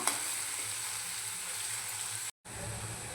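Chopped tomatoes sauté in a hot pan for a Malvani-style fresh cashew curry, with a continuous close sizzle and crackle of frying that cuts out for a brief moment near the end.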